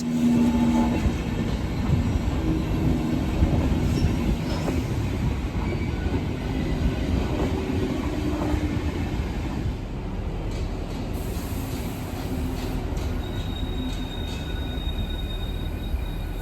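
An Intercity Express high-speed train rumbles along the tracks into a platform in the Netherlands, steady and fairly close, with faint squealing wheels and occasional high metallic tones as it rolls in.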